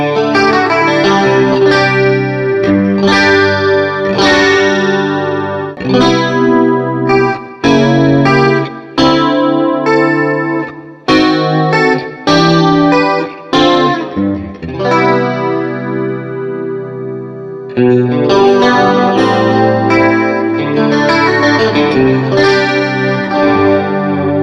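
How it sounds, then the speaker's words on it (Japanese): Electric guitar through a TONEX Plug amp model, playing chords and melodic phrases with a shimmering chorus effect and deep reverb, loud and close, with brief pauses between phrases. "自分のお好みのコーラスとかをじゃあこのプリでかけて、 もう今西君使いこなしてる。"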